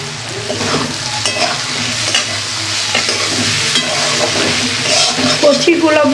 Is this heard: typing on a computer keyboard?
no